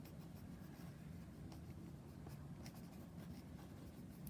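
Pencil sketching loose, scratchy lines on paper for a still life drawing of a gift bag with crinkly tissue paper, a soft continuous scratching with brief stroke accents over low room hum.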